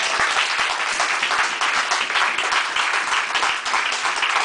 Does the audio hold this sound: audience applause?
yes